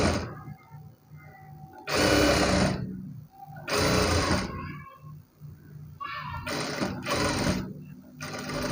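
A sewing machine stitches a blouse in several loud, close bursts of rapid needle clatter, separated by short pauses.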